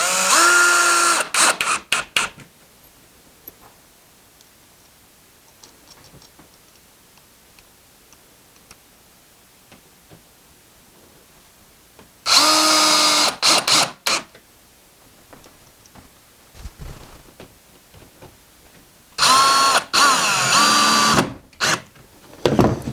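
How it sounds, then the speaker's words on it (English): A power drill driving screws into a garden pergola base, heard in three loud whirring bursts of one to three seconds each, separated by long quiet gaps with faint ticking and handling noise. "push it together. We'll put the screw in."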